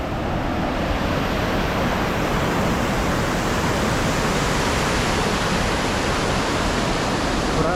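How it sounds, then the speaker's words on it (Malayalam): Steady, dense rush of falling water from a small waterfall in Munnar, continuous and close, with no voices over it. "നല്ലൊരു ആംബിയൻസ് സ്ഥലം കിട്ടി അതായത് ചെറിയൊരു വെള്ളച്ചാട്ടം തന്നെയാണ്"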